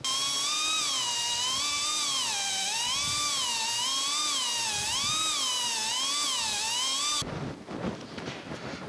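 An air-powered die grinder removes metal from brazed cast iron on a hit-and-miss engine casting, giving a loud, close, continuous high whine that rises and falls in pitch under load before cutting to rough, noisy grinding.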